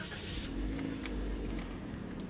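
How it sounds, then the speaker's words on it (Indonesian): A Toyota Yaris GR Sport engine fires up by push button and settles into a steady low idle rumble, heard close from inside the cabin with no talking. "tekan engine start button di sebelah kanan sini untuk menyalakan mesinnya"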